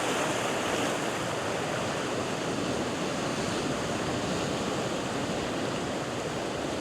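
Waves rolling onto a beach around sunrise give a continuous, fairly loud roar of surf and rushing water, unbroken and with no one speaking.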